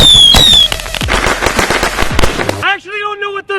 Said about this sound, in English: thought the 4th of July was gonna be the end of fireworks?